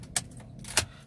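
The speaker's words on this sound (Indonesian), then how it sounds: "Lalu cabut kunci." Two brief metallic jingles of a Toyota Camry key being pulled from the ignition, a short pause between them, close and fairly quiet against a low steady hum.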